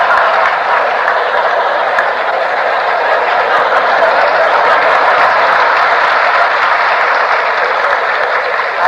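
An audience claps throughout a 1978 speech by Nani Palkhivala, a dense, steady wash of applause lasting about nine seconds at even loudness with no voice over it.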